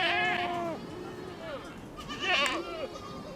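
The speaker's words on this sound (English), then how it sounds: "Gert Titis shepherds a flock of almost 400 sheep and goats." A flock of almost 400 sheep and goats in dry farmland; several bleat nearby in wavering calls, a couple of overlapping cries with short pauses between them.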